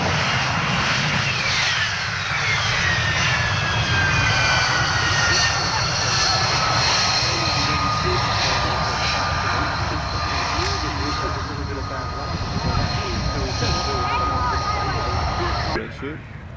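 An aircraft engine roars steadily through the landing run with a sustained whine and a descending tone, loud and continuous before cutting off abruptly, with a commentator speaking over it.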